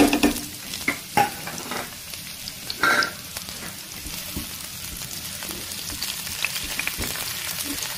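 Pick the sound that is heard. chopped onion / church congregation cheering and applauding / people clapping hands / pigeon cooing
chopped onion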